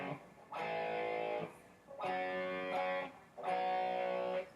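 Distorted electric guitar plays three sustained power chords shifted up an octave, each struck and held about a second with brief gaps between, from a song's riff; no voice over the playing.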